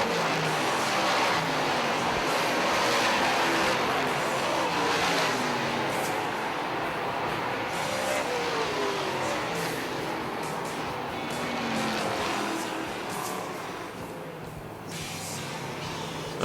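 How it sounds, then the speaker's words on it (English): Modified race cars running warm-up hot laps on a track, a continuous engine roar that swells and fades as the field circles, heard from a distance under steady crowd-like noise. "A couple of hot laps for the modifieds as they get some heat into the tires."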